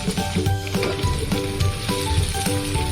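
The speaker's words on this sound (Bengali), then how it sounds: "আমি এটাকে আরও একটু ভেজে নেব।" Onion paste for palak paneer fries in a pan with a steady, close sizzle and occasional stirring scrapes, continuous and fairly loud with no talking.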